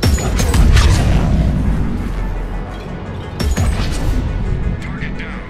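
Grenade explosions in Mass Effect 3 multiplayer, with a Drell Vanguard fighting Reapers: a rapid chain of loud, booming blasts that overlap and keep rumbling, with fresh cracks near the start and again midway.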